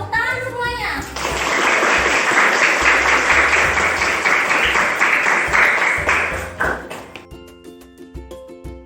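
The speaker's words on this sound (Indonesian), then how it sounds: "Tepuk tangan semuanya." A school audience of children gives a loud burst of applause, starting abruptly and sustaining dense clapping for about six seconds before breaking into scattered claps, with children's voices and a tonal chime near the end.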